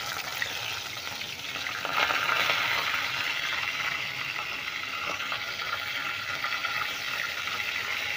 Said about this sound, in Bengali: এই পাশে তো মাছ ভাজা হচ্ছে